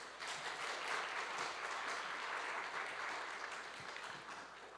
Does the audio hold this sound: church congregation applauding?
yes